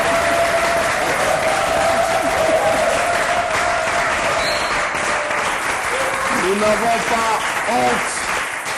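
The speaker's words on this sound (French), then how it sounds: "Il mérite les acclamations." Applause and cheering from a studio audience at a Christian gospel TV programme, a steady dense roar of clapping with voices and sung or shouted tones rising over it, sustained throughout.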